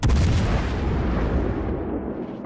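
A gun fires AP rounds in a video game, one loud deep booming blast that rolls out and decays over a couple of seconds.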